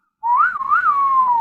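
A person whistles a single, sustained melodic phrase that slides up and down in gentle swoops, loud and close, with no talking around it.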